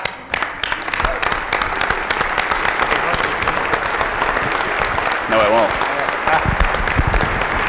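A large audience at a national CEO conference applauds a keynote speaker in a loud, sustained wash of clapping, with a brief spoken voice over it.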